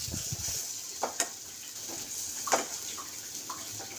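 Spice masala frying in oil for fish-head moong dal, a soft steady sizzle with occasional stirring scrapes and light clinks, fairly faint and close.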